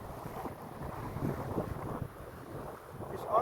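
Strong southwest monsoon wind at sea buffets a small fishing boat, a continuous rough, gusty roar of wind noise and water, rising and falling without a break.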